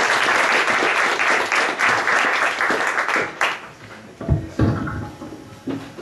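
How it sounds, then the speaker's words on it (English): Crowd applause at a San Francisco virtual reality meetup welcoming a presenter, full loud clapping that fades into scattered claps and a few thumps and knocks. "Please give him a big round of applause."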